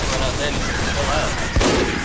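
Gunfire in Team Fortress 2, a quick burst of shots with one sharper crack near the end, heard close and loud over game background noise.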